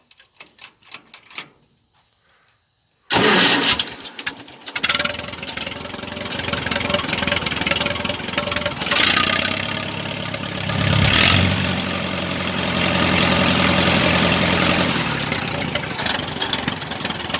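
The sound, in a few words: engine idling, slight carburetor issues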